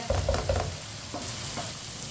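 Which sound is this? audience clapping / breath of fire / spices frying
spices frying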